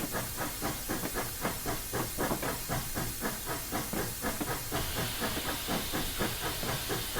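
Steam locomotive in Train Simulator 2016 on a snowy Clear Creek run from Silver Plume to Golden, rhythmic chuffing bursts of hiss in a fast steady beat, continuous and loud with a brighter hiss joining near the end.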